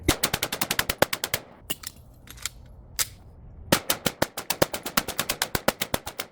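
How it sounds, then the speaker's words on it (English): Rapid bursts of 9mm pistol fire at a TCRT steel shooting target, loud sharp shots in quick strings with a short pause partway through, no talking. "As much as I like shooting 9mm all day"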